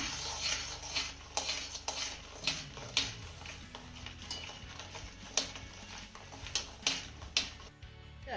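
A spoon stirs jaggery and sugar as they melt in a pan over a medium gas flame for a tamarind dish, giving close, repeated clinks and scrapes roughly once a second over a low steady sizzle, with no talking.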